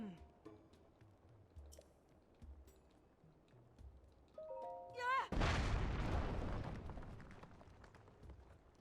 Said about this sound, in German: Ich feuere einen Schuss ab.